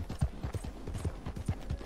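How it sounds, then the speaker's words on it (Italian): Hooves of a horse galloping in the Red Dead Online video game, a steady quick clip-clop rhythm of dull thuds heard alone at moderate loudness. "Matteo, a cavallo di Martina"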